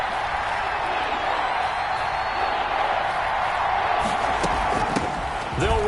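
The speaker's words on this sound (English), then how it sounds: "this crowd's going to get even louder" A steady crowd roar in an American football video game on PS4, loud and continuous throughout, with a few brief thumps near the end.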